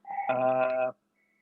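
A telephone rings once, a short, loud electronic trill that cuts off and is left unanswered in a quiet home office.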